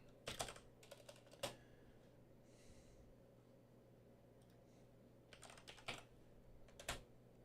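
Bursts of typing on a computer keyboard, quick clusters of clacking keystrokes separated by pauses, close and moderately loud over a low steady hum, with a brief breathy sound in the middle.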